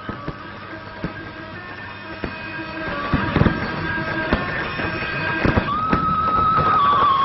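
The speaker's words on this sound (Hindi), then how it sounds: "आतिशबाजी जो है वो खत्म होने का नाम नहीं ले रही है, लगातार आतिशबाजी हो रही है" Fireworks at Ramlila Maidan in Delhi during Vijayadashami celebrations, a continuous run of sharp distant bangs and crackles over a dense crowd roar, with a rising whistle near the end.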